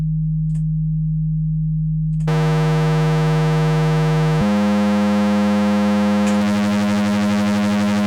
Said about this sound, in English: Sine wave.